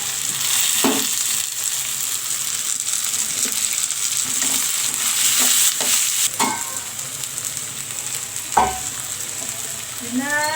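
Cashews, curry leaves and tomato frying in a pan, a steady sizzle running throughout with occasional stirring clatters and a sharper scrape near the end.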